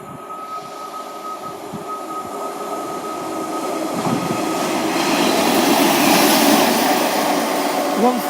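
A Class 142 Pacer diesel train passes through a station, a steady rising rumble with rail noise and a faint wheel squeal, building in loudness toward the end without talk.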